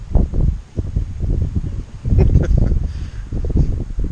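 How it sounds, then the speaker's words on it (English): Gusty wind at an Adirondacks campsite rumbles and buffets the microphone in uneven bursts, with rustling leaves, loud and close with no talking. "And more wind."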